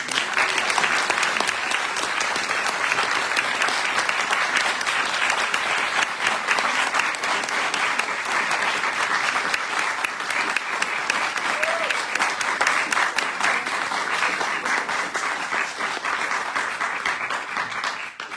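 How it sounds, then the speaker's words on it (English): An audience applauds steadily throughout, a dense wash of clapping that holds at an even level before tapering slightly at the end. "give a warm round of applause"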